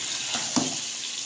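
Yogurt and garam masala hit a pan of frying potato curry, giving a brief steady sizzle with a small splashy plop partway through, close and alone.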